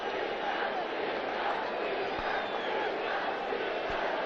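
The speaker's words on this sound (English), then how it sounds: "Very difficult in this light, and with the full house of Indian spectators clapping and shouting." A full house of Indian cricket spectators claps and shouts at a 2002 India versus West Indies one-day international, a dense and loud roar of crowd noise that holds steady throughout.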